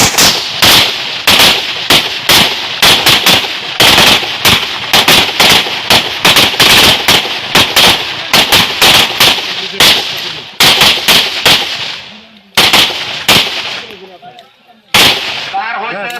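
Police officers fire pistols at an outdoor shooting range, a long run of loud, sharp gunshots in quick irregular succession, with brief pauses and a last few isolated shots near the end.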